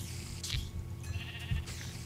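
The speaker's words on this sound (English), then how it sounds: "Why are you coming near me, you stupid sheep?" Sheep bleat in a survival video game, two short, nasal bleats spaced about a second apart, fairly close over a quiet background.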